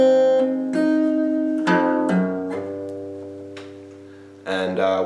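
Slow run-through of a Hytale guitar bass line, several plucked notes spaced out and left to ring, with a louder attack near the end, played close and alone.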